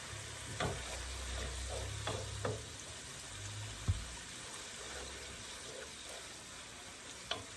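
Prawns frying in a cooked-down spice masala, a steady close sizzle with occasional stirring scrapes and clicks throughout, no voices.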